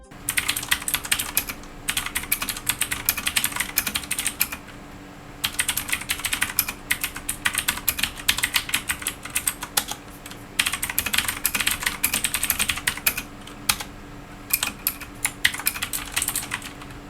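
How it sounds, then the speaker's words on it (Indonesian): Rapid, steady typing on a Digital Alliance Meca 6 mechanical keyboard with blue switches, loud close clicky keystrokes in dense bursts separated by brief pauses, with no voices. "ini adalah typing test saat pertama kali gue coba."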